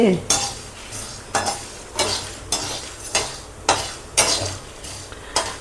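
Spice powder roasts in a pan over a low flame as a utensil scrapes and stirs in a steady rhythm of about ten strokes, close and clear over a soft sizzle, with no talking.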